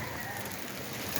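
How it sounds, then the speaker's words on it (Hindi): Rain falls during a thunderstorm in Islamabad, a faint, dense hiss of drops spread evenly across the short moment. "इतनी प्यारी बारिश, ओह माय गॉड,"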